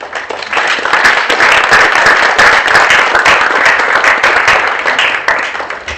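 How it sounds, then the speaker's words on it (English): Loud, dense applause from an audience at a low-tech innovation prize giving ceremony, many people clapping continuously for several seconds with crisp individual claps audible through the crowd. "I would like us to just say thank you by giving a round of applause to"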